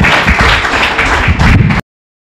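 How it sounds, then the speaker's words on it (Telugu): Audience applause in a church hall at a pastors' gathering, a dense burst of many hands clapping, loud and near, ending abruptly into silence. "చప్పట్లు కూడా ఆహ్వానిస్తాం మనం."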